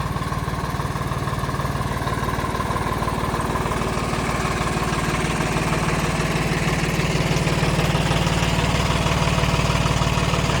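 A tractor engine used for hauling sugarcane runs steadily throughout, a loud, continuous low rumble and rattle with no pauses or speech.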